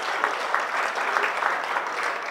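An audience at a mentalist's stage show applauds, a steady wash of many hands clapping at moderate volume with distinct claps popping through.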